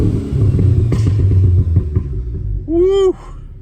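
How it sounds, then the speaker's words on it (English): A 2015 Audi S3 Quattro with a Stage 1 remap to 350 bhp and a sports exhaust idles with a low rumble, then gives one short, sharp rev that rises and falls quickly, close and loud. "this sports exhaust really does sound beautiful. So I'm just going to give it a quick rev for you"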